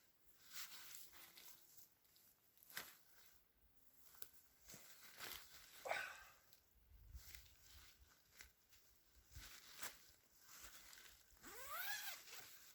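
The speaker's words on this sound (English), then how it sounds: "Zippers are smooth" Zipper running along the side opening of a Onetigris solo mesh tent at an ATV campsite, several short zips and tugs at close range with rustling fabric between them, no talking.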